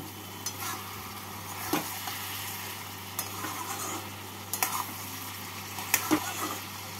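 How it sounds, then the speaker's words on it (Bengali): Chichinga stirred in a pan with cumin and green chilli, soft scraping and light sizzling at low volume, with a few sharper clicks of the spoon against the pan. "এবার নেড়ে নিচ্ছি।"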